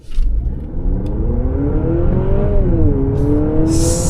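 A 2026 Honda CR-V TrailSport Hybrid pulls away hard from a standstill, its engine drone climbing steadily in pitch, then dropping briefly in a simulated eCVT shift before rising again; loud, close and continuous, with no talk.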